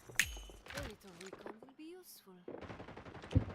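Sharp gunfire bursts from the video game FragPunk, a loud shot at the start and another near the end, mixed with game sound effects and a player talking over it.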